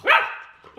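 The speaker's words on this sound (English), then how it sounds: "He likes barking at his humans." A nine-week-old golden retriever puppy gives a single short, high bark up close, fading quickly into quiet.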